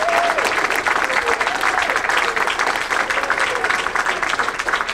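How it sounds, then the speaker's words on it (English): A studio audience at a debate panel on the reliability of the Gospels gives loud, sustained applause for the guests. Voices murmur under the continuous clapping throughout. "Mike Lacona, Bart Ehrman, and Rob Bowman, give them one more round of applause"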